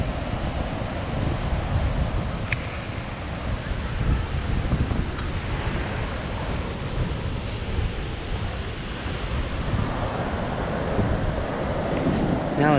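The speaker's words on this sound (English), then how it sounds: "Let's wait till the waves go back." Steady roar of ocean surf breaking and washing on the shore at Cape Disappointment, Washington, mixed with gusting wind buffeting the microphone, continuous and fairly loud throughout.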